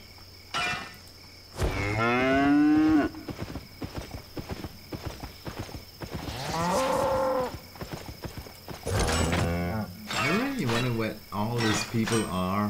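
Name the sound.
cows mooing in the video game Albion Online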